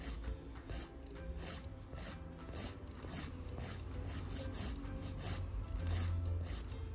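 A nail file rasps steadily back and forth while shaping a fingernail during a dry manicure, close and continuous with a rhythmic scratchy stroke pattern and no speech.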